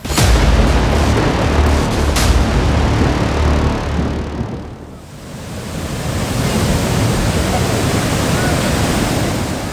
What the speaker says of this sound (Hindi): पानी के शोर को सुनिए, जो शरीर में सिहरन पैदा करता है।